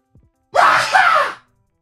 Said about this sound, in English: It's going to make me sneeze.